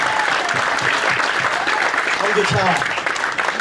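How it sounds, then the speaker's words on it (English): Audience applause for a young guitarist at a youth blues showcase, a steady wash of clapping close by with a voice talking over it. "I want to give a round of applause to this man at the end here, Joseph"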